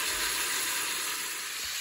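Steady broadband hiss of a small amount of oil heating in a cooking pot, a continuous, even sizzle at moderate level with no voices.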